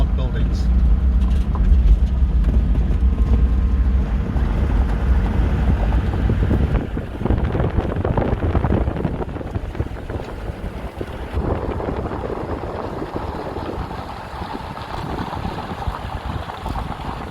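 A car drives up a farm road toward a farmhouse and outbuildings, engine rumble and road noise mixed with strong wind buffeting the microphone, steady and loud throughout.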